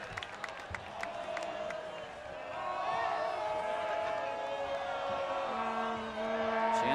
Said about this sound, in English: Chance of ball 6 from the crowd.